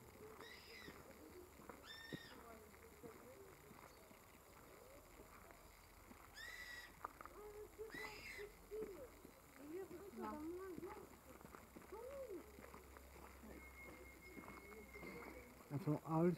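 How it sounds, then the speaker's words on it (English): Assorted birds calling at Wildpark Gangelt, an outdoor wildlife park: repeated short chirps and whistles, a few sharper calls and a thin sustained tone, all fairly distant over steady outdoor background with some faint movement. "These are all the birds"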